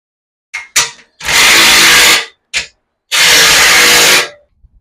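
A power tool tightens the frame of a DIY surf fishing cart: two long, loud whirring runs of about a second each, with short bursts before and between them, and no talk.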